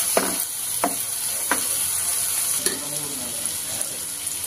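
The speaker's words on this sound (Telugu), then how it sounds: "తర్వాత పచ్చిమిర్చి, అల్లం వేసుకొని ఫ్రై చేసుకోవాలి" Green chillies and ginger fry in oil in a pan for methi egg curry, giving a steady bright sizzle with a few sharp spoon taps and scrapes against the pan, and no talking.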